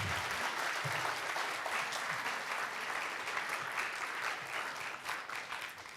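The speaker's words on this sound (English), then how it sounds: "give these people a round of applause" Steady, full round of applause from a seated congress audience, dense clapping sustained at an even level throughout with no speech over it.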